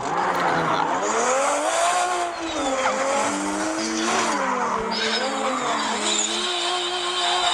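A car drifts with a loud, close, continuous tire squeal whose pitch wavers up and down over the engine noise for several seconds.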